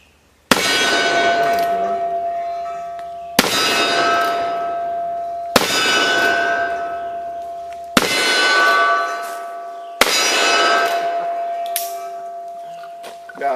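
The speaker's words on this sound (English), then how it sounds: "I'm going to go down here and shoot this cowboy." Gunshots from a black powder firearm strike a steel cowboy target, producing five loud metallic clangs spaced about two seconds apart, each ringing out and decaying before the next.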